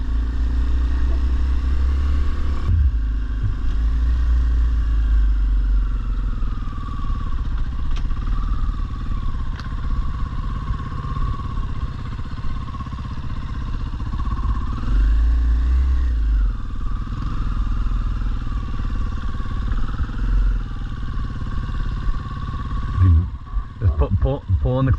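A dirt bike engine idles and runs steadily at close range during a beginner's riding lesson, with brief revs and a cut near the end, while people talk over it.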